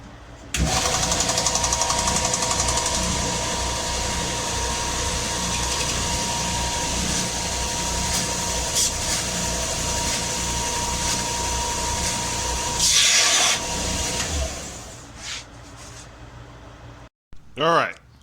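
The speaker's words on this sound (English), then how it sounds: "let's get to grinding." A power grinder works a 1JZGTE VVTi throttle cable bracket in a garage, a loud continuous high-pitched whine that runs steadily for about fifteen seconds before winding down, then a brief clatter at the end.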